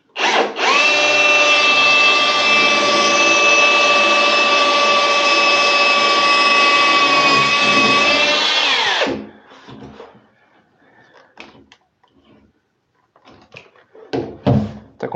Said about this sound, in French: je mets pas trop de percussion au début. Faut pas casser le carreau.